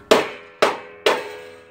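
A hammer gives three gentle, evenly spaced taps on a Dixie Chopper Zee 2 mower belt, seating it into its groove. Each tap rings briefly with a metallic decay, close up and with no talking.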